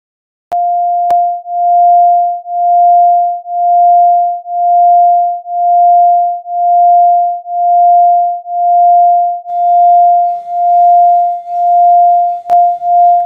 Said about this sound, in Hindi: अब मैं दोनों वेव्स के फ्रीक्वेंसी डिफरेंस को धीरे धीरे बढ़ा रहा हूँ, और इसी की वजह से बीट फ्रीक्वेंसी भी धीरे धीरे बढ़ रही है।